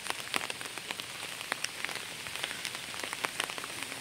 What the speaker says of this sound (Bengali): 2 দিন ধরে বৃষ্টি হচ্ছে,